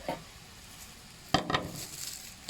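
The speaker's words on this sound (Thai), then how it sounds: "เดี๋ยวเราจะปิดฝาดีกว่า" A metal lid is set onto a pan of stir-fried watermelon rind with a sharp clatter, followed by a couple of smaller knocks and a quiet background hiss.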